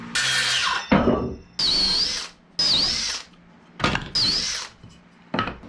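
Power drill countersinking screw holes in wooden strapping during a wooden boat restoration: several short, loud whirring bursts with brief pauses between them.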